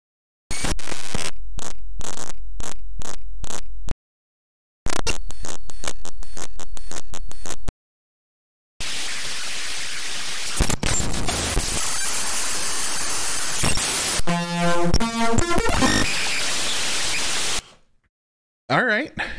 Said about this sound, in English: you can get a lot of really cool glitch sounds